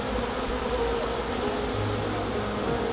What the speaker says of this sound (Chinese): 我们把蜜蜂倒进去。